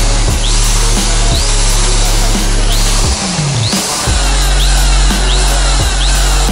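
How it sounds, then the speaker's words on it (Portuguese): A power drill works on a stuck bolt on a Volkswagen Kombi in a mechanic's shop, whining loudly and steadily in repeated bursts with brief pauses and changes in pitch. "Vamos ter que partir pra furadeira."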